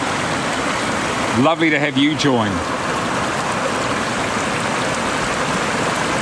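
Broad, steady rush of milky glacial rapids from snowmelt under a mountainscape, constant and loud, with someone speaking briefly over it.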